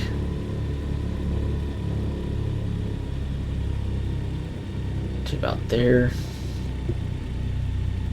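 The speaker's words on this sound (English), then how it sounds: "radial engines like to lug if you idle them completely at around 600 RPM" A DC-3's radial engines idle at low RPM in Microsoft Flight Simulator 2020, giving a steady, loud, continuous rumble throughout, with a brief burst of another sound near the end and a voice talking over it.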